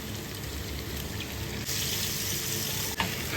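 Water pours steadily into a pot of chicken curry, a continuous close rushing splash that grows slightly fuller midway and ends with a small clunk.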